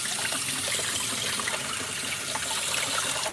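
Black-eyed peas being rinsed under a running tap make a steady, close, full rush of water that continues unbroken throughout, with no voices.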